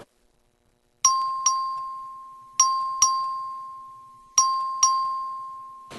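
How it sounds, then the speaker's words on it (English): Voting bell in a state House of Representatives chamber during a record vote, sounding as six bright electronic ding tones in pairs, each ringing out with a long decaying tail, with no talk over it. "The clerk ring the bell."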